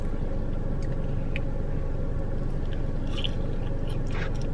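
Close, steady chewing and soft crunching of Chick-fil-A waffle fries that have gone somewhat soggy, continuous mouth sounds without a break and no talking.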